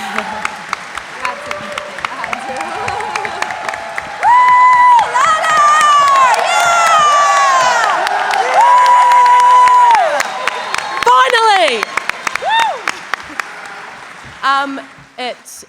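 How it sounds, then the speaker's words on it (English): A convention crowd at a Power Rangers Dino Fury panel bursts into loud, sustained applause with cheers and whoops, and an excited voice shouts over the clapping before it thins into scattered claps. "Wait, can we give a round of applause for"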